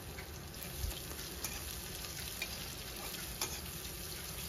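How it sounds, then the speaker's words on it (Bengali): Two medium onions, finely chopped, fry in oil in a kadai with a soft, even sizzle at low level, a few faint stirring taps and no voices. "এখন পেঁয়াজটাকে লাল করে ভেজে নেব।"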